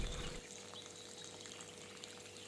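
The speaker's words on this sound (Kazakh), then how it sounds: "қызанақтарымыздың беті толықтай жабылғанша үстіне қайнап тұрған суды құямыз" Boiling water pours steadily over tomatoes in a deep bowl, a continuous close splashing trickle with a louder gush at the start.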